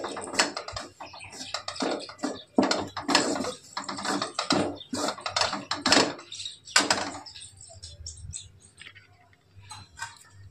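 Gram flour (besan) roasting in a kadhai wok: rapid, uneven scraping and clattering strokes of a spatula against the pan, loud in bursts and thinning out toward the end.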